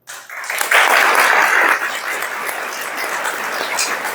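An audience claps for teachers, a sudden swell of close, dense applause that peaks early and then eases into a lighter, sustained patter.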